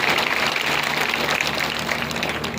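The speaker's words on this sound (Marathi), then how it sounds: "निवेदकाला जरा जोरात टाळ्या वाजवून त्याचंही स्वागत करावं." An audience at a public event claps steadily to welcome the announcer, a dense, even patter of applause throughout with no voices over it.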